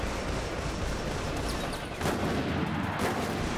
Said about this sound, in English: There is a precision rifle over there that I can use.